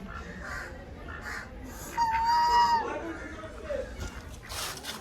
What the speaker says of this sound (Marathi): इथं कोंबड्या पण आहेत. बदक आहेत आणि इथं हे कोंबडे आहेत